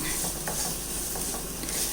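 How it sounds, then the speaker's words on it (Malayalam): Grated coconut roasting in a pan while being stirred, a close, continuous dry scraping and soft sizzle with a few brief louder strokes, no talking. "ഇതും കൂടെ നമുക്കൊന്ന് ഇളക്കി മിക്സ് ചെയ്ത് തേങ്ങ കുറച്ചൊന്ന് മൂത്ത് വരുന്നവരെ നമുക്കൊന്ന് ഇളക്കി കൊടുക്കാം."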